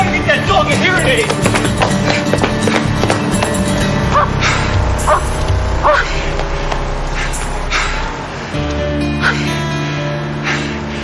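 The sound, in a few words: dog barking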